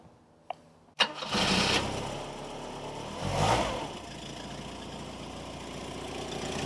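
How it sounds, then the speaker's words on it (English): A car engine cranks and catches with a loud burst, then settles into a steady, slightly rough idle that rises briefly in a rev before holding a constant running note, close by with no talk. "David's going to fire it up so we can hear it run."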